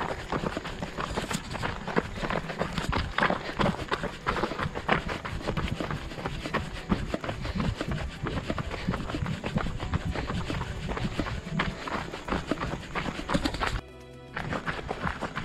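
Horses move along a forest trail in a recreation area, with steady hoof clip-clop and rustling footsteps fairly close by, continuous and busy throughout.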